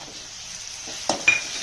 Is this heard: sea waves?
no